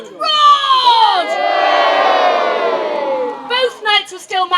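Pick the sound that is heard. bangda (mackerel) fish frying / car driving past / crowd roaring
crowd roaring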